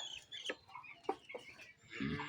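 A few short chicken clucks from eight-day-old broilers, close and fairly quiet, spaced irregularly, with a brief squawk at the end.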